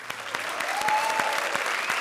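Audience applause on a Hindi comedy show, a dense burst of many hands clapping close and loud for about two seconds, with no talk over it.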